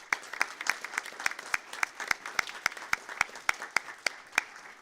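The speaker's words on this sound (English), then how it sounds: "So just a little round of applause for all of you here this evening" A small audience at a school board meeting claps for star students, a thin scattering of distinct individual claps in an uneven rhythm, fairly quiet with no talking.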